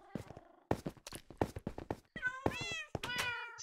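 Cartoon cat meows in the video game Catastrophic Pandamonium, with a string of short chirpy mews followed by longer wavering meows, close and clear over a quiet background.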